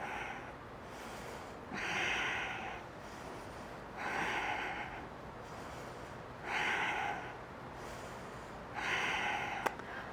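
Deep, slow breathing during a chair yoga session, with four or five unhurried breaths in a calm, regular rhythm. The breaths are close to the microphone but soft, and no one talks.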